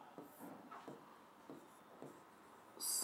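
Words written by hand on a board, giving soft, faint scratchy strokes in short bursts at an irregular rhythm, with no speech over them.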